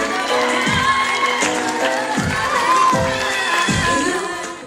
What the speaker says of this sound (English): Huge round of applause for the beautiful Christine.